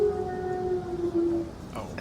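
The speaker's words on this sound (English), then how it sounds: "You hear the howl, and then the howl starts to become more." A drawn-out, wavering howl sound effect from a Dungeons and Dragons tabletop show, one sustained tone lasting over a second at moderate volume, with faint background murmur.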